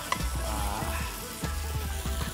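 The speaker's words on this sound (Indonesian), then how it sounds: "Aduk-aduk." Spice paste with tamarind sizzles and pops steadily as it is stir-fried in a pan, with soft scraping of the stirring, close and continuous.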